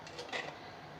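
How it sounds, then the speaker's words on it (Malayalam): A spoon scrapes and taps a few times against a clay pot while jackfruit erissery is stirred, faint and close in a quiet kitchen, with no talk. "ആവി വന്ന സ്ഥിതിക്ക് ഇനി നമുക്ക് ഇളക്കാമല്ലോ."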